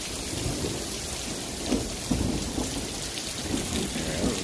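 A thunderstorm rolls in over Speedway, Indiana, with steady rain hissing on surfaces and low thunder rumbling throughout, punctuated by a few closer rolls, with no voices.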